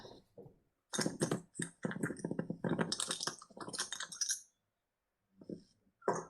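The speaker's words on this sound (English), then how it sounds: "That is the sound of one token clapping." Small hard Star Wars Legion game tokens clinking and rattling together in a bag in a cluster of quick clicks, fairly close, followed by a pause and a few faint taps.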